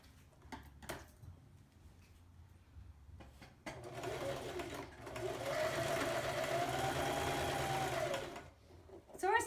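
A sewing machine stitches fabric pieces together in a steady whirring run of several seconds, preceded by soft handling clicks and a brief bit of quiet talk.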